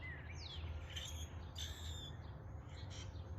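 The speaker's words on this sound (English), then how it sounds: "you hear the birds chirping." Several birds chirp and whistle outdoors in town in spring, bright quick calls scattered over a low, steady rumble of distant traffic.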